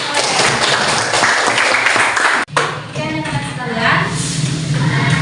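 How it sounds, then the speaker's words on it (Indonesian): Applause from a classroom group after a lesson on Indonesian national sovereignty, steady broadband clapping for about two and a half seconds that cuts off sharply, followed by background voices and room noise. "tepuk tangan"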